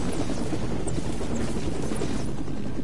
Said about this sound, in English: They had the helicopter right here.